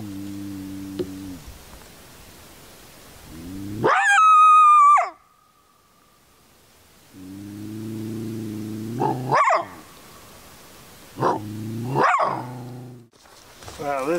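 A coyote caught in a Duke 550 foothold trap in a field near hay bales gives several loud, shrill yelps and howls in separate bursts over a low, steady droning hum.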